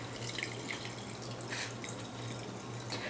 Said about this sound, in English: And then you add filtered water.